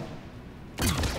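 Gunfire in the video game Mass Effect breaks out as a sudden loud burst after a quiet stretch. It is close and harsh and lasts to the end.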